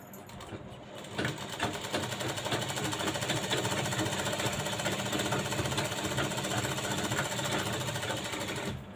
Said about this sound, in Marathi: इकडच्या साईडने एक शिलाई करून घ्यायची आहे व्यवस्थित अशी शिलाई करायची